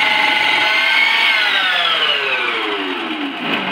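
A Preethi Zodiac mixer grinder gives a single pulse while chopping food: a loud, close motor whine that holds steady, then drops in pitch as the blades spin down.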